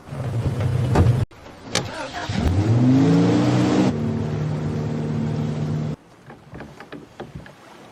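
A speedboat engine revs up loudly with a rising whine, holds a steady drone, then cuts off abruptly, leaving faint background sounds.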